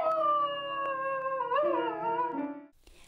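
A dog howling in long, wavering, tonal cries that bend in pitch, loud and sustained with no talking, ending abruptly.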